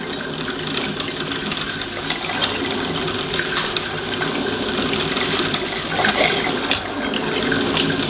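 Water flushes through a coffee maker in a continuous, even rush and gurgle that lasts several seconds and stays close by.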